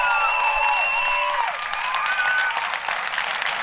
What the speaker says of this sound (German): Ein riesen Applaus für Friday for Future Landshut.